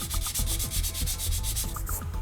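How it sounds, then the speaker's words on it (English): Fine sandpaper rubbing back and forth over a painted surface, a steady rapid scratchy sanding close up, with no speech. "I'm just going to rub it down a bit, scrape the paint. I don't want to get too clogged up with paint. And I've got some fine sandpaper here."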